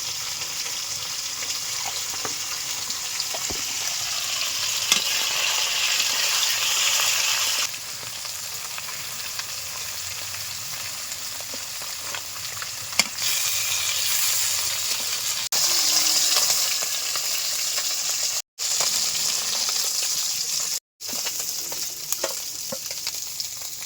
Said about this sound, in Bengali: রসুন দিচ্ছি দিয়ে মাছগুলো ভেজে নিতে হবে